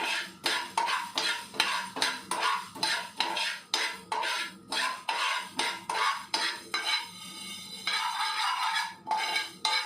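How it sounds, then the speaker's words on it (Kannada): Coriander seeds dry roasting in a pan, stirred with a spoon that scrapes and clinks against the metal in a steady rhythmic pattern of repeated strokes, close up and with no talk. "ಇವಾಗ ಕೊತ್ತಂಬರಿ ಕಾಳು 2 ಸ್ಪೂನ್ ತೊಗೊಂಡಿದ್ದೆ, ಅದನ್ನು ಹುರ್ಕೊತಾ ಇದ್ದೀನಿ"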